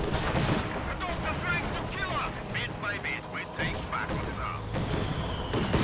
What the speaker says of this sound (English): Their only indirect fire is this AT gun. It's artillery barrage.